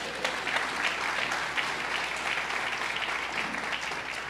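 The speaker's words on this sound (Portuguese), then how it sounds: "Aplauda o Senhor por causa disso." A church congregation claps together in praise during a Wednesday prophetic service, a full, steady round of applause with no voices on top.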